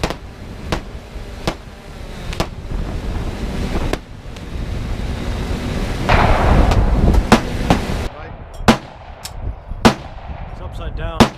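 Gunshots at an outdoor shooting range ring out as sharp, separate cracks at irregular intervals, some near and loud, others farther off, over heavy wind buffeting the microphone.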